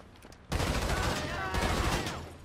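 A sudden loud burst of gunfire erupts in Grand Theft Auto Online, sustained rapid shots filling the space for about two seconds before tapering off.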